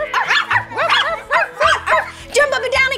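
Children's voices imitate a dog barking, a rapid run of repeated yipping woofs with short gaps, loud and close, alone without ordinary talk.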